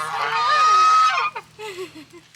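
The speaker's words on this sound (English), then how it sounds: "We're getting a bit of a goose song this morning." Geese honking on a misty morning outdoors, a loud nasal honking call near at hand followed by a few shorter, fainter honks.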